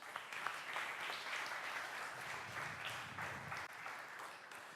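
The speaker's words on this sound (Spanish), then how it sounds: "Pueden estar con un aplauso para ellos," A church congregation applauds, giving steady, continuous clapping that sounds somewhat distant and fairly quiet, lasting the whole span without talk.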